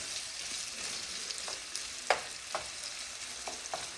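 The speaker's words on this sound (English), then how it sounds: "So right now, put my smoked sausage in the pot. Got to brown my meat up." Smoked sausage browning in a pot for gumbo, a faint steady sizzle broken by a few soft scrapes and knocks of stirring, no talk.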